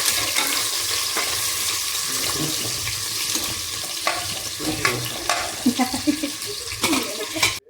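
Thinly sliced onions fry in oil in a pan until brown, giving a steady, bright sizzle with occasional stirring scrapes and clinks growing busier toward the end.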